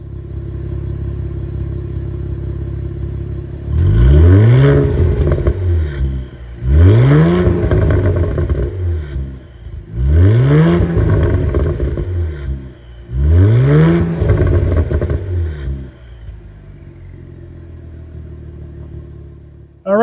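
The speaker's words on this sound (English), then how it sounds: "we got this Blackwing action with a quad tip exhaust, let's hear how this baby sounds" A 2023 Cadillac CT4-V Blackwing sports sedan's quad-tip exhaust revs hard four times in a row, each rumbling blip rising and falling with short idle pauses between, close and loud.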